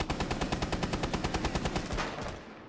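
Rapid automatic gunfire in Rainbow Six Siege, a loud, steady burst of evenly spaced shots for about two seconds before it breaks off, with no talk over it.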